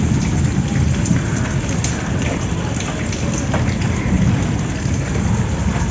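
Heavy rain falls outdoors during a thunderstorm, a loud continuous downpour with rumbling thunder mixed in throughout.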